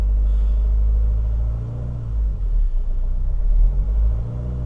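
A camper van engine idling steadily, a deep low rumble with a slight dip and swell in the middle, close by and continuous.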